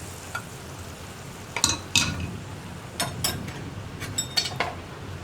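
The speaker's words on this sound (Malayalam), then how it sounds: "അപ്പോൾ നമ്മൾ ഈ റെഡിയാക്കിയ വറവ് കറിയിലേക്ക് ചേർക്കുക." Fried onion tempering tipped from a small pan into a pot of pumpkin buttermilk curry gives a few brief sizzles and clinks of metal utensils, followed by soft stirring, close and moderately quiet with no talking.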